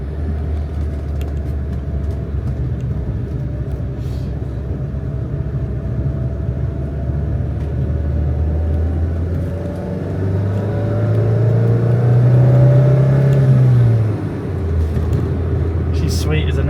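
Classic Renault R16 car engine running after a full rebuild, a steady idle rumble that swells into a brief rev near the end before settling back, with a voice speaking over it.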